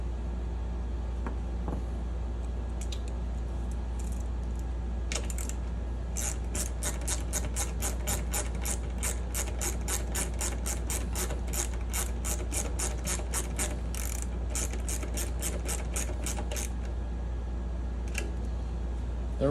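A nut being tightened with a ratchet while installing 3mm plastic parts and replacement hardware for a JAWS 3D collection: a quick, even run of faint clicking strokes over a low steady hum, with a few stray clicks before and after.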